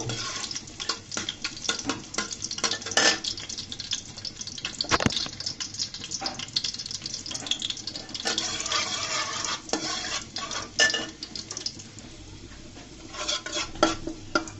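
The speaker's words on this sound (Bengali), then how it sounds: "আমি এখানে রসুন কুচিগুলোকে হালকা করে ভেজে নিব" Chopped garlic fries in a pan before bottle gourd is cooked, a steady sizzle with frequent scrapes and clinks of a spoon stirring close by.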